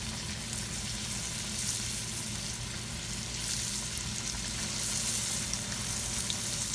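Green tomatoes deep fry in overheated oil on a burner, a dense, steady sizzling and crackling hiss that continues unbroken and fairly loud throughout, close up with no voices.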